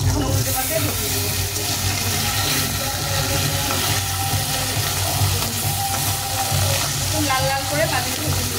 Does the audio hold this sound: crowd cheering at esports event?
no